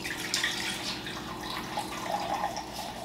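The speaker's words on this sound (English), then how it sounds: "So now I'm going to measure out my water for my lye water solution." Water runs and splashes into a container while being measured for a lye water solution for hot process soap, a soft, steady trickle heard close by, quiet, with no talking.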